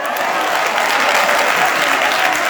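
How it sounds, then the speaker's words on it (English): Steady, loud applause from a crowd at an International Women's Day event, continuous clapping filling the whole stretch without pause. "You clap for the president."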